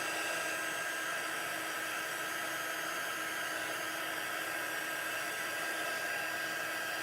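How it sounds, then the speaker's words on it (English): A hot craft heat tool blows steadily over a card to heat set it, giving an even, loud, unbroken whoosh of air with no talking. "I'm going to heat set this one. It shouldn't take very long because my heat tool is already pretty hot"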